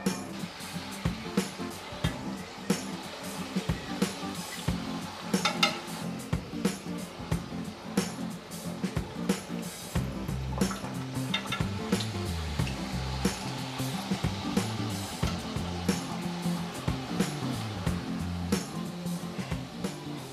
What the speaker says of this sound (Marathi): आता यांना तळून घेऊया आपण. आता आपलं तेल सुद्धा तापलेलं आहे.